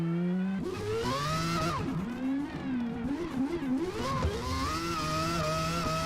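Game car drifting at high speed, engine revving and wavering up and down in pitch as the throttle is worked, with a tire-squeal edge, loud and continuous with no talk.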